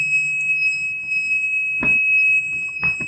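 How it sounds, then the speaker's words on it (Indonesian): Over-current alarm on a lighting control panel: a steady high electronic beeping tone runs through the whole stretch, loud and unbroken, with two short clicks or thumps near the end. "Nah, tandanya alarm berbunyi."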